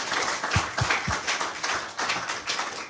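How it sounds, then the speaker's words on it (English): Audience applause for distinguished conference speakers, steady and dense clapping across the whole span with a few sharper nearby claps standing out, no talk over it. "I would first like to give a round of applause for our distinguished speakers"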